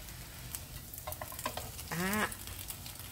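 Egg and meat fry in a pan over raised heat for a breakfast egg sandwich, a steady soft sizzle with faint utensil taps and a brief squeaky scrape partway through.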